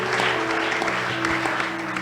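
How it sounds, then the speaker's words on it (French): A church congregation at a Sunday service breaks into steady, dense applause that fills the space evenly, with faint tones sustained underneath. "Acclamons pour la parole du Seigneur."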